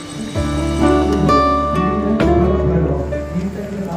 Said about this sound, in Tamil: வெளியே பண்ணுற ப்ரேயரோட சத்தம் இப்போவும் கேட்டுகிட்டே தான் இருக்குது.